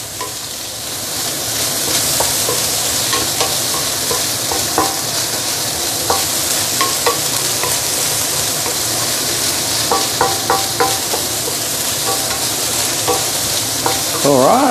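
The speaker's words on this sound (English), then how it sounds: "I'm going to put in the 五香肉丁, yeah? And mix everything up." Fried rice with diced five-spice pork stir-fried in a wok: a steady, loud sizzle runs throughout, with scraping and clinking of the spatula as everything is tossed and mixed.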